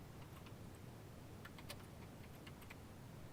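Typing on a computer keyboard, a short run of faint, quick key clicks over a steady background hiss, with no voices.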